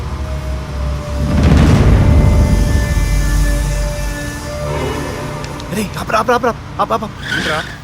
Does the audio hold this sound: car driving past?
yes